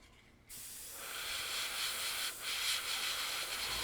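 A Gaahleri GHAD-39 airbrush with a 0.5 nozzle spraying thick paint at high pressure, a sudden close, steady airy hiss that starts after a brief quiet moment and holds with a short dip.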